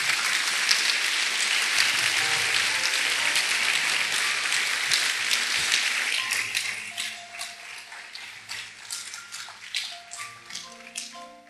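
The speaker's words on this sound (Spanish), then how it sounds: "¿No le daría un aplauso a este padre?" Congregation at a church sermon applauding a father, a full burst of many hands clapping that thins after about six seconds into scattered, fading claps.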